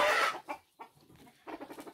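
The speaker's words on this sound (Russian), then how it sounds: "не пугай кур!" Chickens cluck close by in a farmyard coop, a burst of sharp clucks followed by several short, broken cackles.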